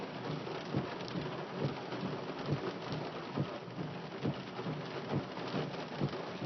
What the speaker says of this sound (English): It's like every time I move the camera, there's that lightning bolt.